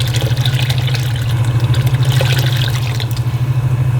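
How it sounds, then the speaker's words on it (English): Hot water pours steadily into a large canning pot holding jars of homemade applesauce, a close, continuous gushing splash with a low pulsing hum underneath, no voices. "I'm going to fill this with water until they are fully covered by about 1 inch"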